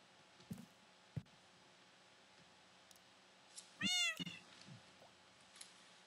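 A Minecraft cat gives one clear, short meow midway, with faint soft purring and scattered light clicks and bumps around it in an otherwise quiet game scene.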